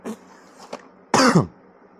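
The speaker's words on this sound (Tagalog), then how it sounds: "Ubo." A single harsh cough stands out clearly in a quiet room, with a couple of faint small throat sounds just before it.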